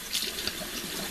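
Hot water gushes steadily from a tap into a sink while a hummingbird feeder is rinsed clean, a close, continuous splashing rush with no voices.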